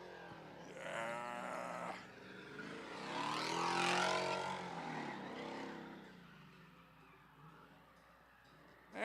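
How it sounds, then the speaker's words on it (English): An engine revs hard at full throttle, a loud sustained roar that swells to a peak midway and then eases off. No one speaks. "He's just standing on the throttle."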